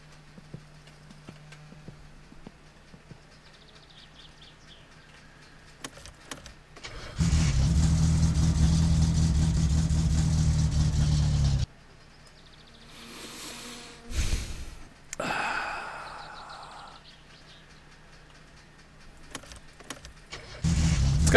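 A car in the driving game My Summer Car sputters and stalls despite a full fuel tank. A loud engine run cuts off abruptly and is followed by quiet gaps, short cranking bursts and another restart attempt, with no voices heard.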